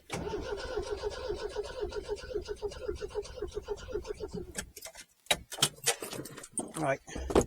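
An engine cranks with the choke on, a steady rhythmic churning for several seconds before it breaks into uneven bursts as it tries to fire, with people talking nearby.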